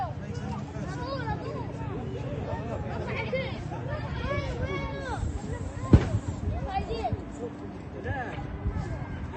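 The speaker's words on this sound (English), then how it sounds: "So there you hear a gunshot" A single sharp gunshot cracks out amid crowd noise and shouting in the occupied West Bank, one loud report standing above continuous babble of voices and movement.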